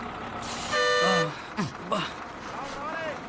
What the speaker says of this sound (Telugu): బస్సు కదిలిపోతుంది.